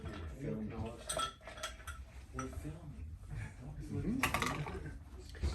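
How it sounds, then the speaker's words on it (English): A couple of ice cubes clink into a glass while a cocktail is being mixed, light knocks and rattles under ongoing conversation. "We're gonna add a couple of ice cubes."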